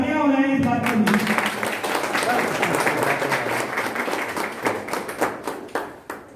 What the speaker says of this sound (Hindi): भाई जोरदार तालियां हो जाए इस बात के लिए